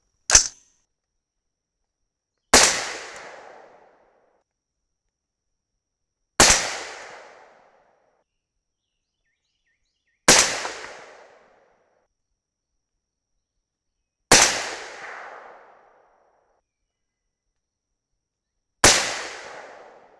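.308 Winchester rifle shots with 175gr Sierra MatchKing loads over IMR 4064, six sharp, loud single cracks spaced about four seconds apart, each with a short decaying echo between silences.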